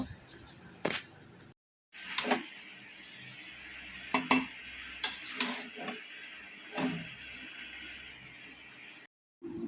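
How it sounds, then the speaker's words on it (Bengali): Rice for prawn pulao fries in a pan while a spatula stirs it, giving bursts of scraping and light clatter over a soft sizzle, broken by two brief silent cuts. "এইভাবেই আমি ভাতটা ভালো করে ভেজে নেব।"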